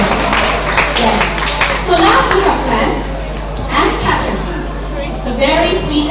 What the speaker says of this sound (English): let us give her a big round of applause